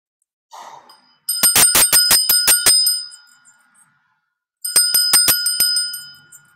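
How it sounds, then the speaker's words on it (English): A small bell, rung by hand, chimes in a quick burst of about nine rapid, bright strikes, then a short second flurry of about five after a pause; a faint breath precedes the first burst. "that's why I just rang the bell"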